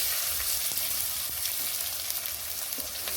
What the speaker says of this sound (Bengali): ভালো করে ভেজে নেবো বন্ধুরা পেঁয়াজ আর টমেটো ভালো করে ভেজে নিয়েছি